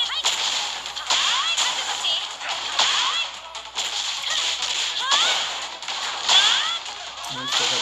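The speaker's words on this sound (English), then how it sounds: "They still got the same little punching animations and sound effects." Punch and kick hits from the fighting game Tekken 8 crack out repeatedly as sharp, whip-like smacks in quick bursts, fairly loud, mixed with game music and effects.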